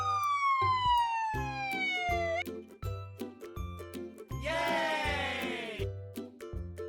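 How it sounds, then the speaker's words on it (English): A police van siren wails with a falling tone, then switches to rapid repeating two-tone yelps, loud and close, with a sharp rising burst partway through and no talking. "It's a police van."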